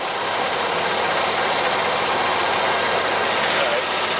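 An Onan 5500 RV generator engine runs at a steady, loud, continuous drone with an even broadband rush and low rumble throughout.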